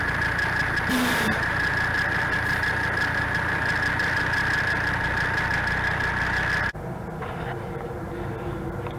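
A diesel Jeep CJ runs with an onboard York 210 compressor filling a tire, a steady loud engine drone with a constant whine, dropping to a lower, quieter hum near the end.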